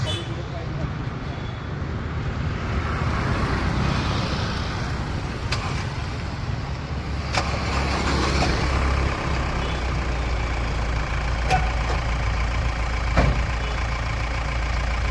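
A pickup truck engine in good mechanical condition idles steadily with a low, constant rumble, occasional sharp clicks, and voices faintly in the background.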